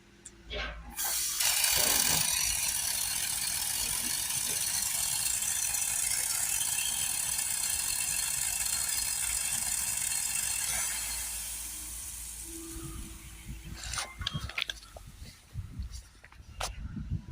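A Milwaukee 18V cordless battery compressor blows air from its nozzle in a loud, steady hiss for about nine seconds, then cuts off, leaving a few scattered clicks and clatters.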